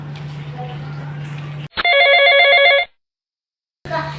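A telephone rings during pretend doctor play: one loud electronic trilling burst of about a second cuts through a steady hum, followed by sudden silence before the background hum returns.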